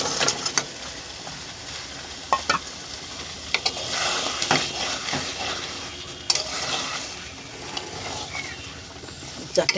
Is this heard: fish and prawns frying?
yes